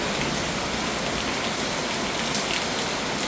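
Steady rain falls at night outside a condo building, a dense continuous hiss of drops hitting wet pavement and surfaces below, even and unbroken throughout with no voices.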